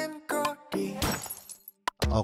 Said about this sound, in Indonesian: Oke, suara pecahan sampel banyak.